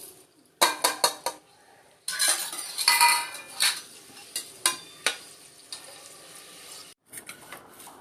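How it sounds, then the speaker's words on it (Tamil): Fennel, cinnamon, cloves, mustard seeds and curry leaves hit hot oil for a vegetable kurma, giving sharp crackling pops and sputters in uneven bursts, with a busy sizzling stretch in the middle and scattered pops after it. "தேவையான அளவு எண்ணெய் நல்லா காஞ்சதுக்கப்புறம் சோம்பு, பட்டை, லவங்கம், கடுகு,"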